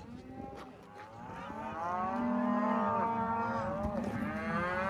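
Young calves moo in a calf pen, several drawn-out, wavering bawls close by that overlap and grow louder, with no talk over them.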